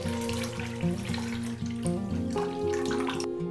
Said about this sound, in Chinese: 将粉碎好之后的米浆倒出